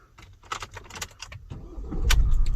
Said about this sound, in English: Van now starts as normal.